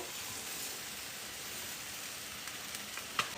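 Carrot tossed into onions frying in a pan, a steady close sizzle with a soft clatter near the end and no talk.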